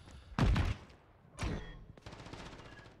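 Bursts of gunfire in a Call of Duty gunfight during a collegiate esports match, with two loud volleys about a second apart and a lighter, sustained rattle of shots trailing after.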